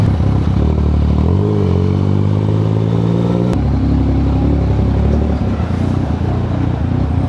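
A big bike motorcycle rides through weekend traffic, its engine loud and close with clattering, rising revs and a steady low drone, one sharp knock partway through, amid surrounding car noise.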